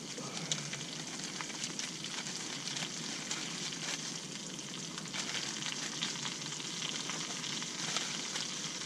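Food fries in a pan during an outdoor lunch in the woods, a steady soft sizzle and crackle that holds evenly throughout at a moderate, close level, with no talk.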